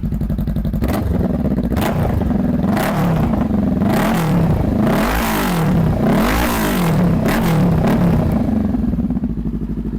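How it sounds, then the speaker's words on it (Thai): A 2018 Honda CBR500R twin-cylinder motorcycle engine is revved up and down repeatedly at close range, its loud throaty drone rising and falling for the whole stretch with no talk. "เดี๋ยวเรามาฟังเสียงซีกัน คันนี้ก็จะออกแนวลั่นๆหน่อย ไป เดี๋ยวผมเบิ้ลให้ฟัง"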